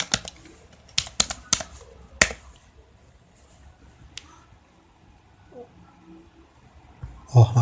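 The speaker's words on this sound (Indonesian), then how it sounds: "Jadi sekarang kita ketikkan itu." Keys tapped on a computer keyboard while configuring a router interface for IPv6-over-IPv4 tunneling, a few quick clustered clicks near the start, one later tap, then a louder burst at the end, over a quiet room.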